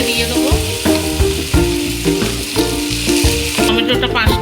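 Fried onion spice paste sizzles in hot oil for a chicken curry, a bright crackling hiss under steady rhythmic stirring and thumping, with music playing underneath.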